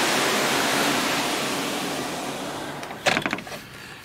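A cruise ship balcony door slides shut on a loud, steady outdoor rush of wind and sea noise, which fades over a few seconds before the door closes with a brief clatter and thump near the end.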